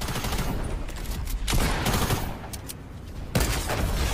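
Semi-automatic gunfire in the video game Fortnite, a rapid volley of sharp, loud shots in several bursts, close and with no talking.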